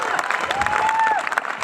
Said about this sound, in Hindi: और भी ज्यादा ताली बजती है